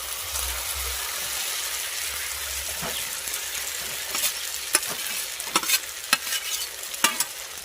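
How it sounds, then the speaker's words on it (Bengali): Fried vegetables tossed into a pan of sizzling spice masala, an even frying hiss throughout with sharper stirring scrapes and clacks growing more frequent toward the end, nearby and without speech. "এবার দিয়ে দেবো ভেজে রাখা সবজিগুলোকে"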